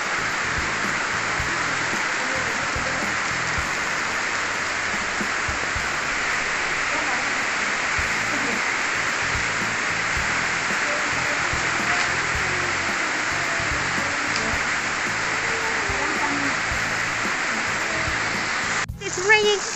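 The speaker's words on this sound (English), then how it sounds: "It's raining super duper heavily and my feet are getting wet." Heavy rain pours down outside a strawberry greenhouse at a farm in Bedugul, a dense, unbroken hiss of drops lasting throughout, with a brief knock near the end.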